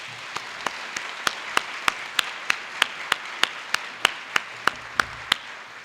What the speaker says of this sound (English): I'd ask you to join me in giving them a round of applause.